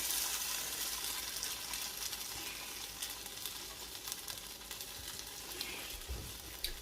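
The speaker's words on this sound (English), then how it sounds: "So what I did is I add my onions up in here. And now I'm just going to add the first batch of meat." Onions and a first batch of meat fry in a pan for Philly cheesesteak, giving a steady crackling sizzle throughout with a few louder spits and stirring clatters near the end, no speech.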